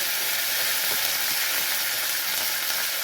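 Chopped onions, green chillies and ginger fry in hot oil with tempering, giving a steady, dense, close sizzle without pause.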